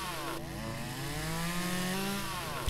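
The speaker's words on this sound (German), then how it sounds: "Ich bin froh, dass wir die Kettensäge nicht auch noch mit Treibstoff befüllen müssen." Chainsaw cutting through wood in the video game Lumberjack's Dynasty, a steady buzzing engine drone with harmonic whine that holds loud and continuous for nearly three seconds, with no talk over it.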